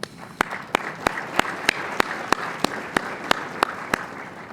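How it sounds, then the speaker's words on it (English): Applause from a crowd at a PGA awards luncheon rolls on as a steady bed of clapping, cut through by one nearby person's sharp, evenly spaced claps that keep a regular beat. "Can we give her another round of applause?"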